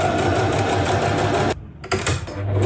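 A sewing machine runs a loud, close, steady burst of stitching along the double-folded neckline of a muslin kaftan, then stops briefly and restarts.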